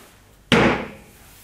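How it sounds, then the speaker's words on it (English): A single sharp knock as the back panels of an Oakley TV unit are tapped into place during assembly, a loud close impact with a short ringing decay, no talking. "give it a knock so that the backs are in"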